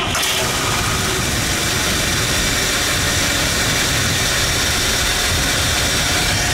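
A 1963 Buick Electra 225 engine turns over and catches, then settles into a smooth, steady idle that rumbles on evenly, close by, with no talking.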